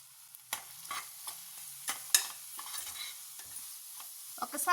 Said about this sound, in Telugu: ఒకసారి అంతా బాగా ఫ్రై చేసుకుందాం అండి